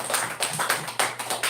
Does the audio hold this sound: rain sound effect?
no